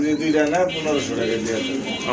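A pair of big Bombay pigeons at a pigeon sale coo in soft low bursts beneath someone talking close by.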